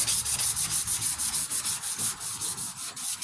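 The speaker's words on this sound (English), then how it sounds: "I'm going to hand sand this just to make sure I get down in that crevice behind there good" A body panel on a Chevy square body truck is sanded by hand in quick, even back-and-forth strokes, a close, rhythmic scratchy rasp that holds steady throughout.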